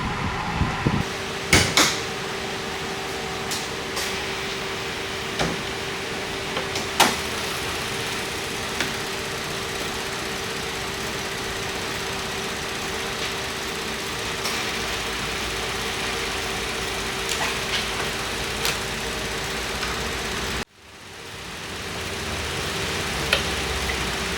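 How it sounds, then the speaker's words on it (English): A car air conditioning compressor cycles on a vehicle that blows warm air. A steady, close engine-and-compressor drone runs with scattered light clicks, then cuts out abruptly near the end and ramps back up. "you can see that it's cycling on and off, the compressor's cycling on and off fairly regularly"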